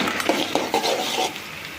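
Onion and green chillies stirred in a pan for chickpea sundal, giving a few scraping, clinking utensil strokes against the pan over a soft, steady background hiss, with no talking.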